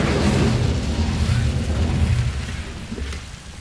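Incendio fire spell cast in Hogwarts Legacy, a loud, steady crackling roar of flame that holds for several seconds before easing slightly at the end.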